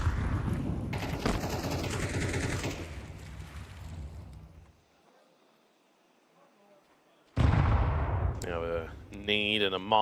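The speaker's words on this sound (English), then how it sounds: "Just a couple of sprayed bullets through the smoke" Rapid bursts of sprayed rifle fire in a Counter-Strike-style esports match on Mirage, loud and dense for the first few seconds, fading into near silence, then excited commentary resumes over the game sounds.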